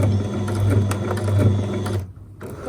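A sewing machine stitches a straight seam on a cotton cafe apron, a steady close mechanical whirr with a rapid needle rhythm that cuts off briefly near the end before resuming.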